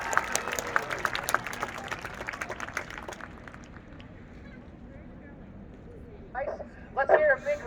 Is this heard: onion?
no